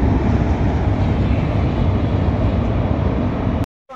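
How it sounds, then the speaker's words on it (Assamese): A Tinsukia-bound train crossing the Bogibeel bridge gives a steady, loud rumble that stays unbroken for over three seconds and then cuts off abruptly. "বগবিল দলঙৰ ওপৰেদি ট্ৰেইন গৈ আছে"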